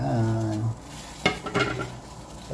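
Aromatics go into a pot of boiling water for a shrimp catch-and-cook dish, with a splashing, stirring rattle after a short hum, close up.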